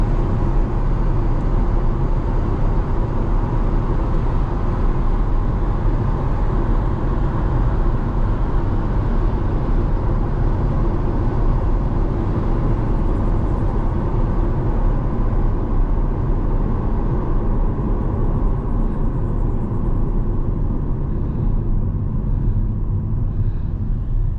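Steady road traffic rumble surrounds a car on a drive past a Costco, a constant loud low roar holding evenly throughout with no talking.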